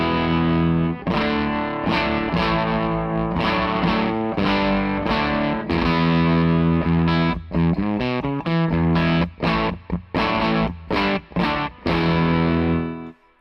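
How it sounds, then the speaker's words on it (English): Heavily distorted electric guitar through a Hello Sailor Effects Broadside overdrive pedal at maximum gain, saturated tone, sustained chords giving way to choppy rhythmic stabs with short gaps, loud and up front. "that just sounds like a really nice, natural overdrive that rocks out"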